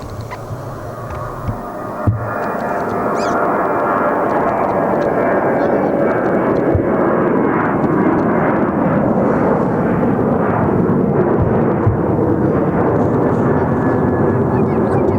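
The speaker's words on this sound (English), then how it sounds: "This plane, the takeoff is going to go to Toronto." A passenger plane takes off at Edmonton Airport, a loud broad jet roar that swells within the first seconds and holds steady and heavy throughout, heard from outdoors at a distance, with occasional voices underneath.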